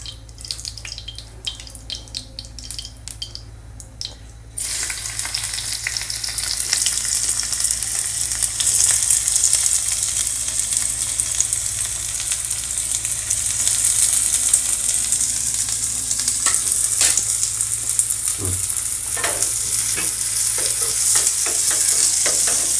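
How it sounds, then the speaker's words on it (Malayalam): Small shallots and garlic frying in a pan until browned, a loud, continuous hiss of sizzling oil that swells after a quieter start and carries on with occasional spatula knocks, no speech. "നമ്മൾ ചെറിയ ഉള്ളി വെളുത്തുള്ളി ഒന്ന് നല്ലോണം കണ്ട് മുരിയട്ടെ ഈ ബ്രൗൺ കളറൊക്കെ വരട്ടെ"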